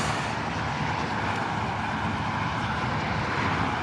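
Superhuman Photon e-bike riding on throttle only, a steady loud roar of wind and motor drone with no breaks or voices.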